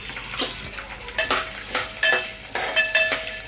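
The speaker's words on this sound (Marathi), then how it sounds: "ते थोडे तुपावर असे परतवून घ्यायचे, म्हणजे त्यांचा कच्चापणा असतो ते निघून जातो।" Cashews and almonds roast in ghee with a steady soft sizzle, broken by a spoon scraping and stirring against the pan in repeated bursts.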